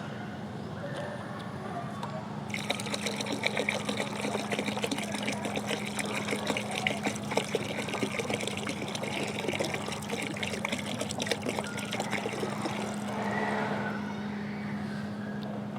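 Water is poured by the litre into a bucket to mix a liquid fertilizer, a continuous splashing rush lasting about ten seconds at a moderate level before trailing off.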